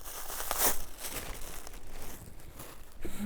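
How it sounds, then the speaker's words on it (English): Paper or plastic crinkling and rustling up close, with a sharper crackle early on and softer handling noises after. "Sorry for the rustling noise."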